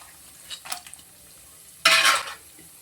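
Cashew nuts dropped into hot oil for lemon rice, giving a few soft clinks and stirs followed by a sudden bright burst of sizzling that quickly fades, with no talking.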